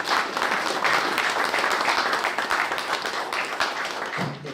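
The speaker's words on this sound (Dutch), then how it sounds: "En daarvoor wil ik een applaus vragen voor onze minister." Audience applause at a Curaçao sports week launch event, steady dense clapping filling the whole stretch at even loudness, tapering slightly at the end.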